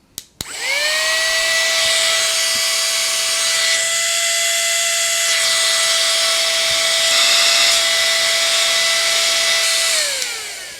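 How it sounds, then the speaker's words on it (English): A small portable air compressor fitted with a mount runs steadily for about ten seconds, a loud, close, constant motor whine with a pitched hum that starts abruptly and winds down at the end. "Let's start with the little portable one. I have the air compressor mount attached to it, and this is what it sounds like."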